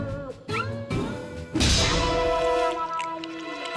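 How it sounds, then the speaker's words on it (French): A cartoon cat meows in a French animated show, a few short cries followed by a long, loud, strained yowl with thumping noises at the start. "Un chat!"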